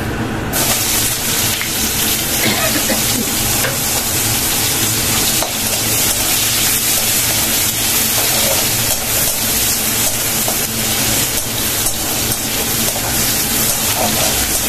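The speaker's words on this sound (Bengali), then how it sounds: "পেঁয়াজগুলো ভাজা করে নেব।" Chopped onions fry in a pan for a biryani, a loud dense continuous sizzle with faint stirring scrapes, close up and without speech.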